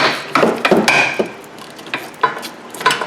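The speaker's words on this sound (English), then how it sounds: "You just get on here with the ratchet" Ratchet working on a rear brake bolt of a 2009-2014 Hyundai Sonata, a series of sharp clicking and clanking bursts close by, irregular, with quiet gaps between.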